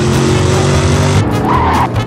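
A Blade car in a GTA-style video game roars along loudly with a steady engine drone, then its tires give a short high squeal as it skids, with no talk over it.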